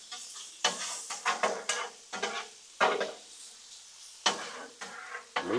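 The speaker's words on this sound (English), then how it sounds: "Come over here and move this shrimp around a little bit." Shrimp and vegetables fry on a Blackstone griddle, a soft sizzle under a run of sharp spatula scrapes and taps, some clustered quickly and others spaced out, all close by.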